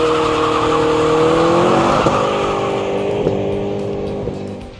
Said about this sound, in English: we drove these two all-American muscle cars on none other than Glendora Mountain Road